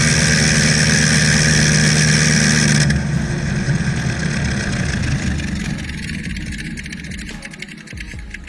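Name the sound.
single-cylinder aircraft engine running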